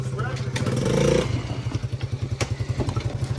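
A Yamaha Raptor 80 ATV engine runs while being ridden, a close, pulsing putter with rhythmic throttle surges and some clatter, and a voice speaks over it.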